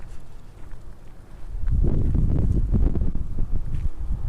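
Gusty outdoor wind buffeting a Synco G1 A2 wireless microphone, a low rumbling roar that swells after a quieter start and stays loud with fluctuating gusts.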